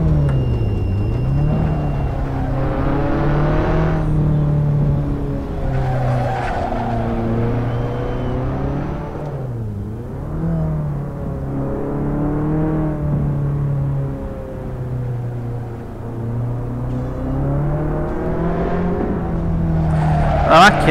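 An Abarth 500 EsseEsse revs and shifts steadily around the Magione circuit in Assetto Corsa, its small engine droning and rising through gears with brief dips, tires occasionally squealing, heard close and continuous with someone talking over it.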